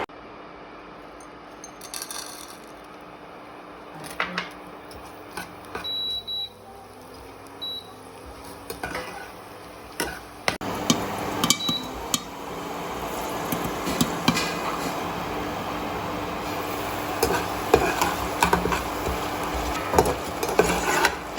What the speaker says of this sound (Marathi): इथं आता आपण लवंग तेलामध्ये घातल्यानंतर आपल्याला याच्यावरती ताट झाकून हे तळून घ्यायचं आहे